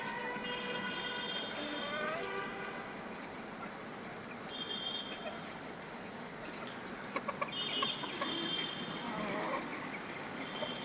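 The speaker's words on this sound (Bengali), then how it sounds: "এই যে একটা সাদা মুরগি, এটা আমার" White desi chickens clucking and calling nearby, several harmonic squawks over a busy outdoor background with a person talking.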